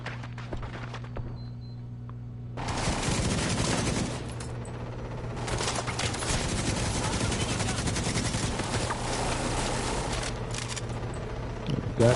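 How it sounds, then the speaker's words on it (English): A Gatling gun in a tactical shooter game fires long sustained bursts, a dense roaring rattle that starts after a quieter stretch and keeps hammering loud and continuous, broken by short pauses. "Goddamn Gatling gun out there."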